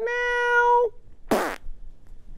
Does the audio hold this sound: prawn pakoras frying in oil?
no